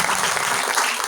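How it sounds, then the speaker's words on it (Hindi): Loud, dense applause from a church congregation in Chandigarh, a short close burst of many hands clapping at once. "हम जोरदार तालियां बजा के उसका धन्यवाद कर सकते हैं।"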